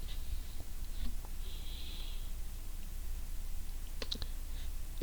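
A computer mouse clicking a help button, with a few sharp, faint clicks spread over a quiet room tone and a short, clustered burst of clicks near the end. No talk.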